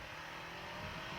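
A car rushes past a rider on a Kawasaki Ninja 500R motorcycle, its engine and wind noise forming a dense, steady roar that swells slightly toward the end, with no voices.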